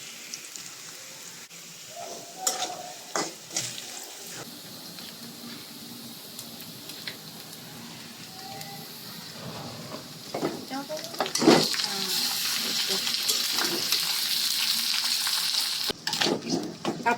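Meat tipped into a hot pan in a home kitchen, breaking into a steady frying sizzle with a few stirring knocks and scrapes. The hiss grows louder and denser toward the end, and faint talk runs beneath it.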